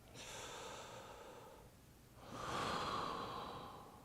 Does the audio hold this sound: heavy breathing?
yes